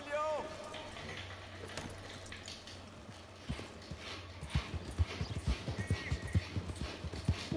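Horse hooves in the video game Red Dead Redemption 2 start slow and sparse, then build into a quick, regular clip-clop of a trotting horse that grows louder toward the end, with a short neigh near the start.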